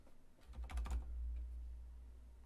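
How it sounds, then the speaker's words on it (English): Short burst of typing on a computer keyboard, a quick run of clustered keystrokes lasting about half a second, close and fairly clear, with no talking. "over here, I'm gonna type glow"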